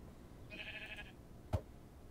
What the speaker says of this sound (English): Invincible sheep.